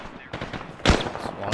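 Gunfire in the military shooter ArmA 3: several sharp, loud shots and bursts crack out close by in an irregular rhythm, with two heavier blasts near the middle and end of the brief moment.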